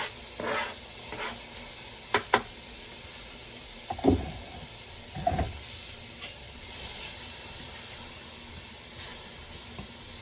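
Artichoke chunks sizzling in a pan, a soft steady hiss of frying with a few clattering stirs and scrapes of the utensil against the pan.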